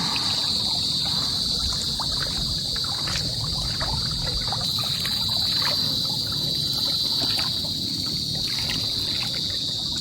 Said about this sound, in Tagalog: At ito po ang ating ilog ngayon.